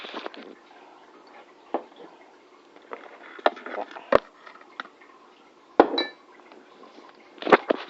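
Shortbread cookie dough with icing sugar being stirred in a bowl, quiet scraping broken by several sharp clinks of utensil against the bowl at irregular intervals, close and fairly faint.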